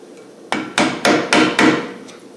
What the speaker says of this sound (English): I'm going to have to get a hammer, just hang on.